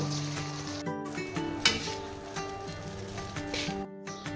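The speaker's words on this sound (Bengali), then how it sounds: "ডিমটা ভেজে নিব" An egg frying in white cooking oil in a kadai gives a soft, continuous sizzle with a few light scraping touches, fairly quiet beneath steady background music.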